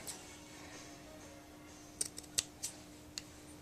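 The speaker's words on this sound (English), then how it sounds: "Guess I'm not using my sharpest scissors" Scissors trim paper for a glass glitter ornament, giving a few faint, sharp snips clustered near the end, with quiet, near-silent background before them.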